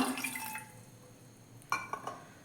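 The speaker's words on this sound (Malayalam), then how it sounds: "അതിലേക്ക് നമ്മൾക്ക് ഒരു കാൽ ഗ്ലാസ് വെള്ളം ഒഴിച്ചു കൊടുക്കാം" A small splash of water pours into a saucepan on the stove, followed by a few brief drips and clinks, all faint and close.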